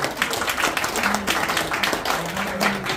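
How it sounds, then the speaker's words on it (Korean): Short burst of audience applause at a policy forum in Korea, a dense patter of many hands clapping at once, steady and moderately loud. "큰 박수 부탁드립니다."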